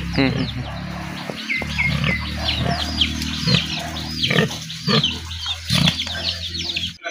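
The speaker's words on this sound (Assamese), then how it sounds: "এইটো পুহিব পাৰে মানুহে এইটো জাতটো ভাল ঠাণ্ডা গাহৰি" Domestic Khasi pigs grunt on a farm, giving repeated low, rough grunts and snorts up close, with voices talking in the background.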